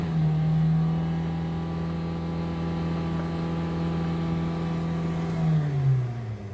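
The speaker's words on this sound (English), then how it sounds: "the engine sounds very good. It goes up very smoothly as well." A black used Hyundai Sonata LPG sedan's engine holds a steady, smooth drone close to the microphone, then the pitch sags and the sound eases off near the end.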